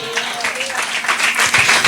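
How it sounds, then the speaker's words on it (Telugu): Applause from a church congregation, a short burst of clapping under a speaking voice, fairly close and lively. "చప్పట్లు కొడదాం."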